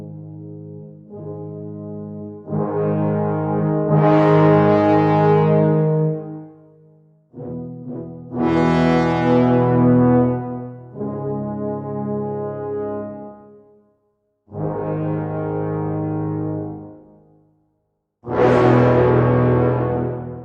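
Strezov Afflatus Chapter II brass ensemble playing marcato samples: several rich, full sustained chords with strong attacks, each held a few seconds and separated by brief gaps, loud and alone without any talk.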